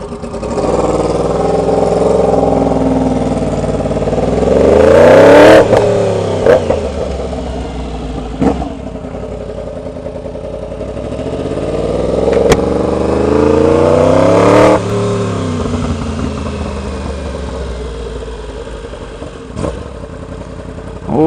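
A 2016 R1 motorcycle exhaust revs hard twice, each rev rising and falling in pitch, with idling and a few clicks between, close and loud.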